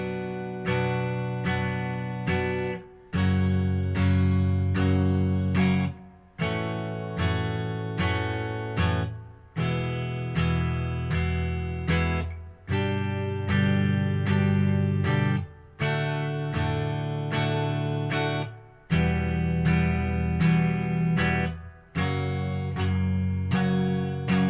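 Guitar strums a verse chord progression in even bursts, each chord struck repeatedly in a steady rhythm with short gaps at the changes; close, full and continuous, no speech.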